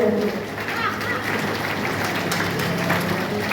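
Dense clapping from a crowd at a Shrimad Bhagavat religious discourse runs steadily throughout, with a voice speaking over the applause.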